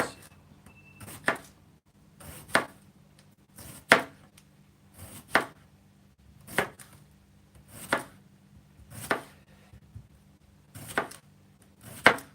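Food is chopped on a cutting board in a home kitchen: about nine single, sharp knife strikes land at a slow, even pace roughly a second and a half apart, close and clear against quiet background hum.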